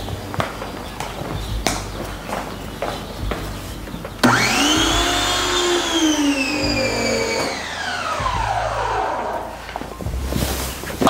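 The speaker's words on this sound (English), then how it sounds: "You also need to turn on your pressure washer" A pressure washer motor kicks in and runs loud and steady, rising then settling in pitch, used to feed a foam cannon for washing a Subaru WRX STI, preceded by scattered footsteps and handling noises.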